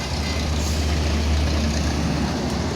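An NPM Sultan Kelas bus sits in a traffic jam, its heavy diesel engine idling with a low, steady rumble amid constant road noise.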